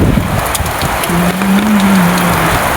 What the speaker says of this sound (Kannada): ಮಿಂಚೂರು ಗಾಳಿ ಮಳೆ ಏಕ ಬಂದುಬಿಟ್ಟೈತೆ ನೋಡಿ ಗಾಯ್ಸ್